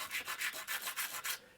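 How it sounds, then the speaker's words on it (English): Abrasive sanding strokes scrub corrosion off metal clamps from a 1974 Sonab OD-11 cube speaker, about six steady back-and-forth rubs in a quick rhythm, close and fairly quiet, with no talking. "I'm just sanding off the corrosion from these clamps."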